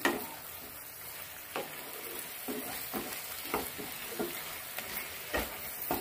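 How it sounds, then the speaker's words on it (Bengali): Softened tomato and onion curry sautéing in a pan, a steady broadband sizzle with repeated soft scraping strokes of a spatula every second or so, close and moderately loud with no talking. "ঢাকনা খুলে ভালো করে কষিয়ে নিচ্ছি। টমেটো পেঁয়াজটা অনেকটা নরম হয়ে গেছে।"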